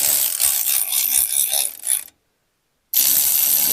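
A ratchet running down the bolts on the worn original axle of a 1950 Chevy truck, with rapid close clicking for about two seconds, then a brief silence before the loud ratcheting resumes.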